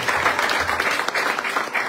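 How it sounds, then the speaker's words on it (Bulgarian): Congregation at a Christian church service clapping together, a dense, steady burst of applause filling the space with no speech over it. "Нека дадем силно ръкопляскане."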